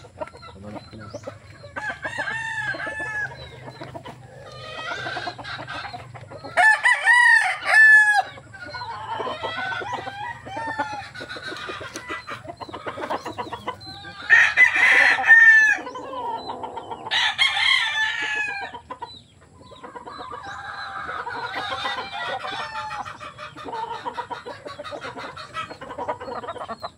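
Red Kelso gamecock crowing repeatedly in loud, close bursts between softer clucks and chatter, with a low steady hum underneath throughout.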